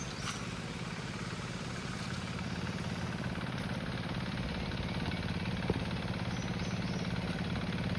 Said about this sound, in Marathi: सगळ्यांची ट्रॅक्टर चालू